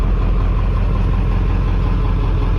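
A 1995 Ford 7.3 diesel with stage 1 injectors running loud and close, a steady unbroken low rumble with no pauses throughout.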